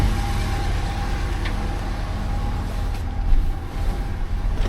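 A 2011 Cadillac DTS limousine engine idles steadily up close, a continuous low rumble with a slight swell in level partway through.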